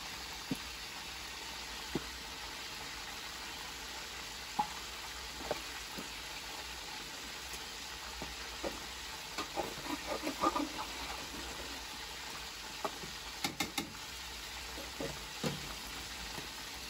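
Onions frying in a pan for beresta, a steady quiet sizzle with occasional small pops and crackles scattered across the span, no voices.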